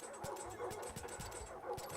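A dog in the Far Cry 5 video game whimpers and yips in short, repeated bursts over a quiet background, fairly faint and close.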